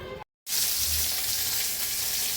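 Fish fries in a hot pan with a loud, dense, continuous sizzle that fills the space right after a brief cut of silence near the start.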